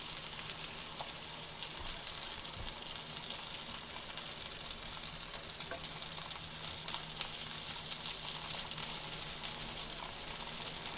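Rainbow trout fry in butter in a pan, giving an even, continuous sizzle with faint pops throughout, steady in level and with no voices.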